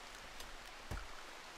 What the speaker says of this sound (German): Oh, hier regnet es die ganze Zeit.